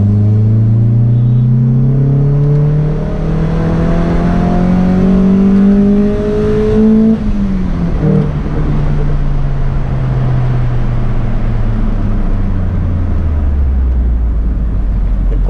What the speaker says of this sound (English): test how the sound is for the engine and induction sounds